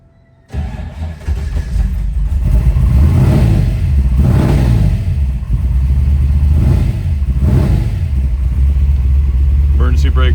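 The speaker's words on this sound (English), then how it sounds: "We'll fire it up here for you." A 1940 Ford Deluxe Coupe, all-steel, cranks over and fires up, settling into a loud, lumpy idle broken by several sharp throttle blips. Each rev swells and falls back in a steady rhythm, close up, with a voice talking briefly.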